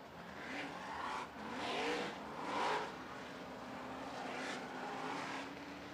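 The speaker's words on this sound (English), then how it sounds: "late model, heat number 1, a total of 7 cars on the racetrack for this one" Late model race cars roar around a dirt racetrack during a seven-car heat, engines rising and falling in loud sustained waves as the cars pass, with no voices.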